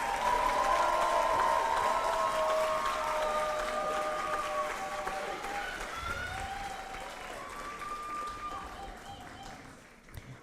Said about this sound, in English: Can we give all of our graduates a round of applause?